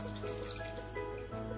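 Cooking water from boiled amaranth greens is poured into the mashed cooked greens, a steady continuous splashing and trickling stream close by, with no voices.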